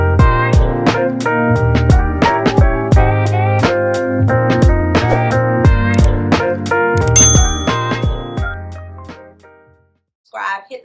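A bright notification-bell chime rings out in a rapid melodic run of clear ringing tones for several seconds, then fades away before a brief voice starts.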